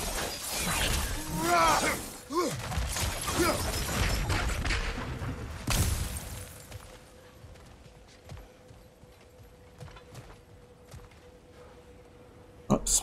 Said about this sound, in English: Smashed his head on a rock,